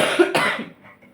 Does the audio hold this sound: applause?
no